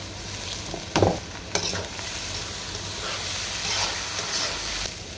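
Polao rice and masoor lentils frying in a pot for khichuri, a constant close sizzle with a couple of loud stirring knocks early on, then steady hissing and scraping, no voices.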